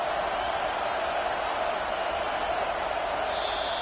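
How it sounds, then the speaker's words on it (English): A stadium crowd at a football game roars steadily behind the defense on third down, a dense, continuous wash of noise without breaks. "Decibels rising as the crowd gets behind this defense on 3rd down."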